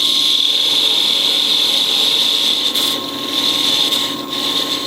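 A wood lathe turning a wooden flower blank while a parting tool cuts an angled bevel into the bottom, giving a steady, loud, continuous whine with a few brief dips as the cut shifts.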